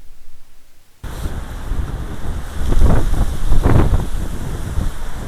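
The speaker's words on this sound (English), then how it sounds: "very windy" Strong wind at a reservoir buffets the microphone, starting abruptly after a second of near silence, then a loud, continuous roar with gusty swells.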